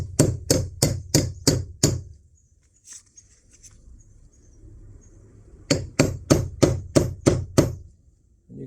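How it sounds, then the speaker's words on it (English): A lump hammer taps a bearing down onto a boat trailer axle in two quick runs of about six sharp metallic knocks each, close and loud, with a quiet pause between the runs. "And using a nice lump hammer, just"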